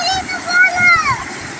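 Water splashes and rushes at Kawasan Falls, a continuous, close wash of noise with faint high-pitched voices or calls over it.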